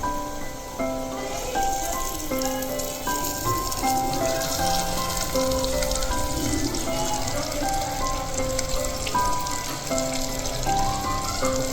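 Mutton with turmeric sizzles and fries in a pot for Telangana kunda mutton curry, a steady close crackle with no break, with music playing over it.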